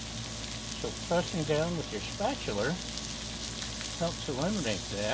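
Smashburgers frying on a Blackstone griddle give a steady, close hiss of sizzling fat that runs the whole time beneath someone talking.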